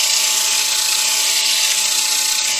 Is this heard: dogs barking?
no